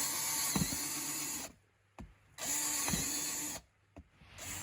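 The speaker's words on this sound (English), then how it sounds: "So let's go and drill those holes." A power drill bores holes into a worm composting bin in two long high-pitched whining bursts, each followed by a quieter pause, heard close and loud with no speech.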